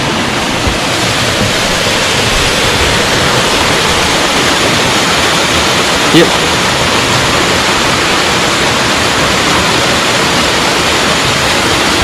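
A small waterfall in Dollar Glen, Scotland, pours in a steady, loud, unbroken rush of water with no pauses, with one brief word spoken faintly beneath it.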